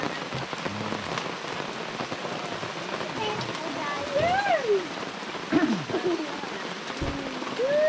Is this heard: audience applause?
no